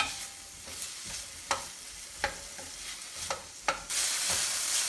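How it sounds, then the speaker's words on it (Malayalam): Onions sautéing in oil with salt and curry leaves for bitter gourd stir fry, a soft continuous sizzle broken by several sharp scraping strokes of a spoon against the pan, the frying swelling louder near the end. "ഉള്ളി ഒന്ന് സോഫ്റ്റ് ആവുന്നവരെ നമുക്ക് ഈ എണ്ണയിലിട്ടൊന്ന് വഴറ്റാം"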